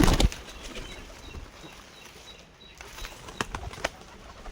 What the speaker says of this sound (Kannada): ಇದು ನಾನು ಸಾಕಿರೋ ಪಾರಿವಾಳಗಳು.